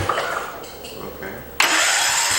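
A 1969 Patio 112 garden tractor engine is cranked over several times, then catches abruptly and settles into a loud, steady running roar close by.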